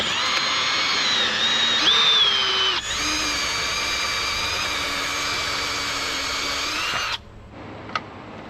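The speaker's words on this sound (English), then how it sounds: "Let's go ahead and get that drilled out." A power drill with a step bit bores a hole while a car wideband gauge is installed, giving a loud, steady whine that shifts pitch as the bit cuts, then stops abruptly.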